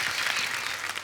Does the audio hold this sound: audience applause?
yes